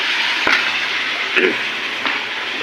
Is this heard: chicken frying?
yes